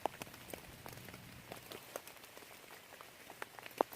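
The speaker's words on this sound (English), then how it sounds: "Still digging in the rain, guys." Rain falls outdoors during a muddy metal-detecting dig, a faint, steady patter with a few sharper droplet taps scattered throughout.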